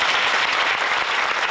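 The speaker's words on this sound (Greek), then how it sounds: "Τον ευχαριστούμε και τον χειροκροτούμε." An audience bursts into dense, steady applause at a Greek tribute show, many hands clapping together in a continuous roar with no break.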